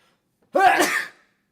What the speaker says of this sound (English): Sneezing my ass off like I just don't care